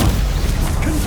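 Spell-casting effect of Stupefy from Hogwarts Legacy, heard as a dense, loud burst with a booming low end and a whooshing crash, filling the whole moment without a break.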